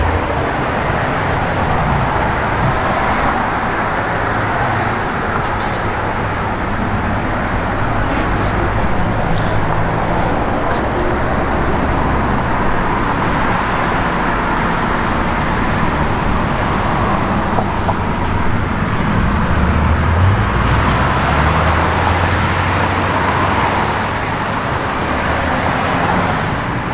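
A 1971 Chevrolet Chevelle SS with a 400 Turbo Hydra-Matic transmission and 2800 stall converter drives along, giving steady, loud engine and road rumble throughout with no talking.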